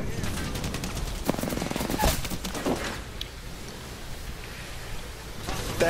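Hand cannon gunfire in the video game Apex Legends, a rapid volley of sharp shots in the first half followed by a few scattered cracks, mixed under game noise at moderate level.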